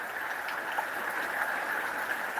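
Heavy rain pours on the roof of an RV at a campground, a dense, even hiss of drumming drops with faint individual taps, steady and close throughout.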